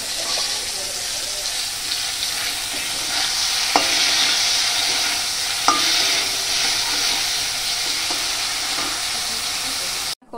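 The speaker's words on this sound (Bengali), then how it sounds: "এবার আমি কড়াইতে যে তেল আছে ওই তেলেই আমি একটু বেগুনগুলো ভেজে নেব" Brinjal pieces fry lightly in oil in a kadai, a steady close sizzle with a few stirring clicks and scrapes running throughout, no talking.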